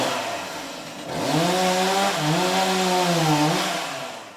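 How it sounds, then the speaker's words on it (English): A chainsaw roars continuously up close, its engine revving up and wavering in pitch before easing back slightly at the end. "Once you hear the chainsaw, it's already too late."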